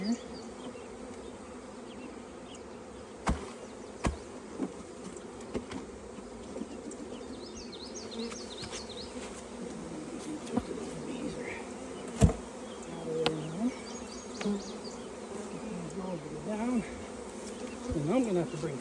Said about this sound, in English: I'm going to go ahead and get most of these bees